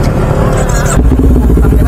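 A Kawasaki Ninja 400cc twin-cylinder motorcycle revs close by, a brief loud burst of rising engine note that drops into a rougher idle.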